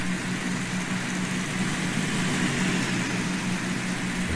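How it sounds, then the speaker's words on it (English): A car engine hums steadily behind the player in Farming Simulator 19, a faint, even, low drone with no talking over it. "I can hear a car behind me."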